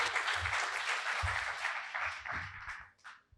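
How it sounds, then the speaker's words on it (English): A room full of people at an MIT AI/ML Club fireside chat claps steadily for a few seconds, a dense, even wash of applause that thins out toward the end. "Please give them a round of applause."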